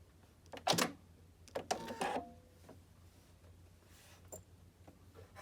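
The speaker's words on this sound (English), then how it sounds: "we're at the sewing machine and we're going to start sewing right here on this side" A sewing machine with a double needle stitching cloth napkins runs in short bursts, a couple of quick mechanical whirrs followed by a quieter hum and a few faint clicks, close by, with no talking.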